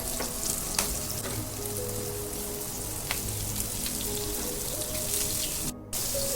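Prawns fry crisp in a pan on low heat, sizzling and spattering steadily up close with scattered sharp pops, the hiss dipping briefly near the end.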